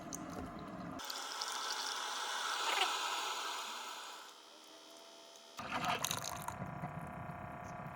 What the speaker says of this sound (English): And the last bit of water came out.